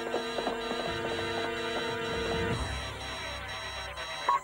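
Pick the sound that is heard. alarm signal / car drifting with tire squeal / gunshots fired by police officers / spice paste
alarm signal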